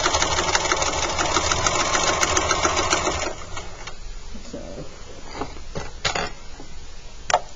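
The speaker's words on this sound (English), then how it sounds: "sew these pieces together" Sewing machine stitching fabric pieces together, a loud continuous rapid mechanical whir for about three seconds, then stopping, followed by quieter handling clicks and rustles.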